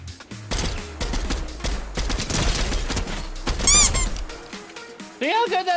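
Video game gunfire, with bursts of shots and deep booms crowding the first few seconds, then a shrill electronic wail and a short rising tone near the end. The sounds are loud and close.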